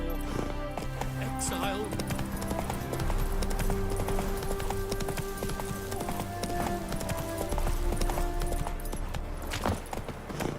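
Hooves clip-clop at a gallop as a horse is ridden in the game The Witcher 3: Wild Hunt, Heart of Stone expansion, a steady rhythmic beat under music and spoken dialogue.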